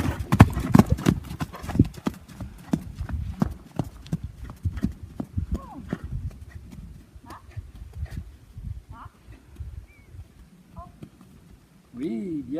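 Horse hooves clip-clop in a riding lesson, passing from trot to walk with steady rhythmic footfalls at close range, while people talk over it and a short neigh sounds near the end.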